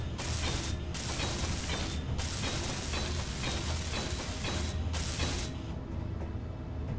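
Block welding in the Space Engineers game produces a continuous dense mechanical ratcheting, grinding buzz that holds steady for several seconds, with brief dropouts, no talking.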